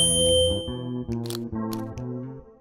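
In the adventure game Willy Morgan and the Curse of Bone Town, a triangle struck with a tuning fork rings out in a few clear, sustained metallic tones, each strike chiming bright and close before fading.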